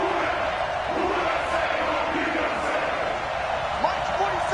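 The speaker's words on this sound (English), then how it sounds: "The crowd here in the Dome making things difficult." A dense, roaring stadium crowd in a domed arena fills a football video game, a steady wash of cheering with occasional rising shouts throughout.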